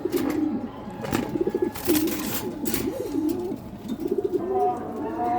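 Racing pigeons coo repeatedly in a loft, a steady stream of throaty, rolling calls close by with soft rustling and background chatter.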